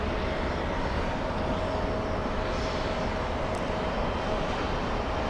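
An airliner in Tiana's Bayou Adventure livery at LAX, bound for Portland, gives off a continuous, moderately loud engine rumble with a faint steady whine, sustained evenly and without talk.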